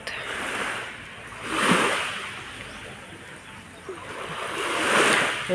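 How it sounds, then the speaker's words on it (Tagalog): Sea waves wash in and recede in slow, broad swells, two louder surges rising out of a constant hiss of surf, heard alone at moderate distance. "Adengganin mo ang kalisaw sa dagat."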